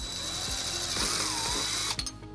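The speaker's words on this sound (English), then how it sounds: "using a 3/16 drill bit, we're going to drill our first hole" A 3/16 drill bit boring a hole at the bottom of a 2007 Dodge Nitro bumper: a steady, close, high-pitched whine with a rhythmic low pulsing that cuts off abruptly near the end.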